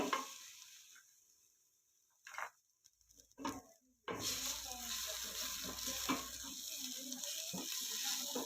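Ground spice paste with smashed ginger and shallots hitting hot oil in a pan, a sudden loud sizzle after a quiet start with brief stirring clatters, then steady frying hiss close by.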